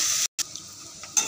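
Carrots and potatoes fry in a pan, giving a soft steady sizzle with faint stirring scrapes and one brief silent gap, heard close up with no voices.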